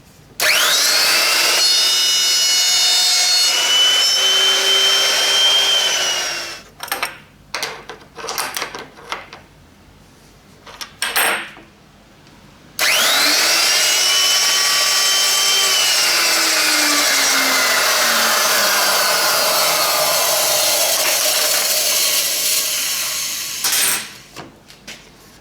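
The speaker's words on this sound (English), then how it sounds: "set the cutter up so it's just cutting, and we'll go all the way around and then come back, just gradually reduce the radius until we've got this trimming that plywood and aluminium disc accurately" A cutter arm trims a plywood and aluminium disc for a home-foundry sand muller, giving a loud, sustained grinding whine with gliding pitch in two long passes split by a few seconds of quieter, choppy contact.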